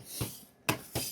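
Baked cheese scraped and broken away from the side of a pizza pan, three short gritty rasps close by with brief quiet gaps between them.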